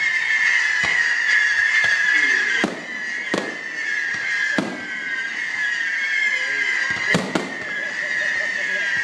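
Fireworks exploding over Goleta, California, a string of sharp booms and crackles at uneven intervals, with a bright steady whine from a distant display throughout and people chattering nearby.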